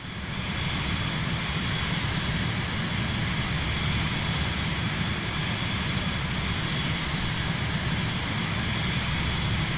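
Airplane engine in Microsoft Flight Simulator 2024 on PS5, a loud, constant droning roar that holds steady throughout with no talking.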